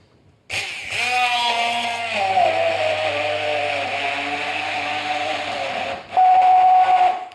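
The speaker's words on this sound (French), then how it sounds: "On va se prendre un mixeur et on va venir mixer notre pulpe." Hand or stand blender puréeing lemon pulp for a lemon curd, a loud motor whine that starts abruptly, shifts pitch as the blades load, then jumps louder near the end before stopping.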